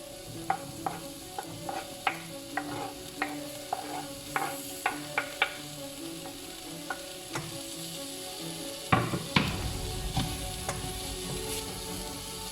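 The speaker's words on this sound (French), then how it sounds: "Vous faites dorer les oignons et l'ail dans votre casserole." Onions, garlic and peppers fry softly in a saucepan, a low steady sizzle under repeated light scrapes and taps of a utensil stirring, with a louder clatter of ingredients near the end.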